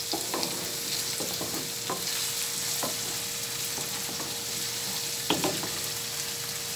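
Rice for a Christmas rice dish is stirred in a pan on the stove, with a constant soft sizzle and occasional spoon scrapes as it is pushed from the edges to the centre, close and without voices.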